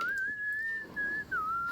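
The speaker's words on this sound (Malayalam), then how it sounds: "ഒരു വിസിൽ വരുന്ന വരെ വേവിക്കുകയാണ്" A pressure cooker whistles while lentils cook with turmeric and chili powder: one sustained, steady tone that lasts almost two seconds, dips briefly and bends lower near the end, with no talk.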